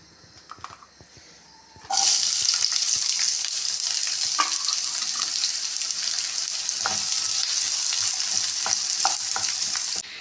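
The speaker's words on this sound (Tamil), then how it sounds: "எண்ணெய் காய்ந்ததும் நீளவாக்கில் அரிந்து வைத்துள்ள வெங்காயத்தை சேர்த்து நன்கு பொன்னிறம் வரும் வரை வதக்கவும்" Long-sliced onions dropped into hot oil for an egg gravy, a few quiet clinks before a sudden loud sizzle bursts in and holds steadily, with intermittent spatula knocks against the pan, close up and no talk.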